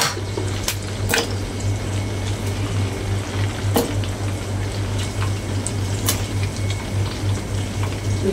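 Onions and tomatoes frying together in a pan, a steady close sizzle with a low hum beneath and a few sharp clicks and taps from the cookware, no voices.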